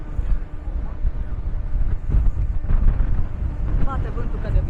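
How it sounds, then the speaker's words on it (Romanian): Strong wind gusts buffet the microphone at Ribeira da Janela on Madeira, a continuous low roaring rumble that rises and falls throughout, with faint bird chirps late on. "Bate vântul foarte tare, nu știu cum se aude în microfon."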